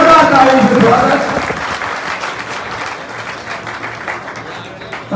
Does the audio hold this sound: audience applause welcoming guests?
yes